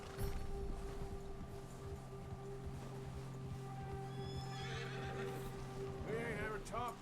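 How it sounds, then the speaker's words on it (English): A spooked horse whinnies and snorts in Red Dead Redemption 2, with hooves clip-clopping on a trail, a steady game hum beneath, and a sharp rising neigh near the end. "this is the most annoying thing in this game, your horse getting spooked."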